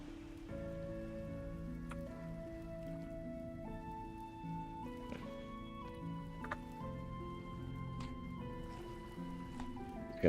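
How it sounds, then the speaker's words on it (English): Hail in the survival game Vintage Story makes a soft, steady patter under sustained, slowly shifting in-game music, fairly quiet throughout. "I think what's happening there is I think we've got a hailstorm."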